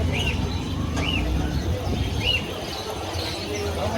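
Cockatiels and budgerigars in cages at a bird market give a few short, bright chirps spaced across a busy, murmuring background with some talk.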